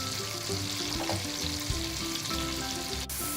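Cumin and asafoetida sizzle steadily in hot butter for a large batch of pav bhaji, a continuous close frying crackle with light stirring.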